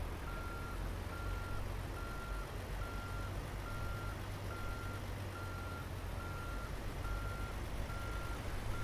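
Steady, evenly spaced reversing beeps ring out from a heavy truck backing a trailer in American Truck Simulator, over a constant low diesel engine rumble, with no talking.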